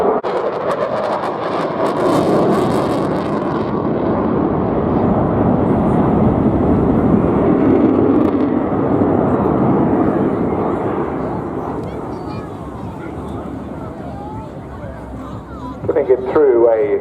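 Jet aircraft performing aerobatics at a seaside airshow, a sustained loud roar that swells and slowly fades, with brief talk near the end.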